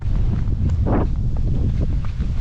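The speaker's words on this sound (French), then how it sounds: "Il y a le vent qui se lève de ouf." Strong wind gusting steadily across a hilly trail during a race, a loud low roar buffeting the microphone throughout, with a brief rustle in the middle.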